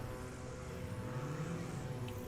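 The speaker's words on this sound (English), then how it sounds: "So here comes Clint Busenitz now. He has a 61-foot takeoff. Settling it down. Flaps dropped." A propeller airplane landing at a STOL competition in St. Joseph, Missouri, with a steady, loud engine drone and prop hum that holds throughout without a break.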